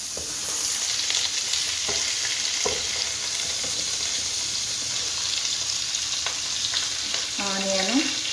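Cumin, cinnamon, cloves and cardamom fry in a half-oil, half-ghee mix, a steady close sizzle broken by a few faint stirring clicks and a short whistling squeak near the end.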